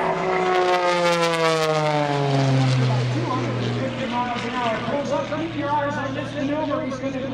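Gary Ward's aerobatic airplane at an airshow sweeps past with a loud, rising and falling propeller drone that shifts pitch as it banks and climbs, while an announcer talks continuously over it.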